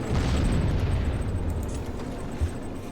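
A shot and explosion in a tank-combat video game, heard as a heavy, rumbling blast with a dense low boom that fills the whole stretch and a smaller burst near the end.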